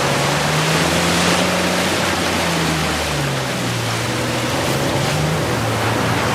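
Steady roaring rush of a waterfall in Uncharted 4 spilling in front of a hidden cave, a continuous broadband wash with low tonal music-like hum beneath, constant and fairly loud throughout.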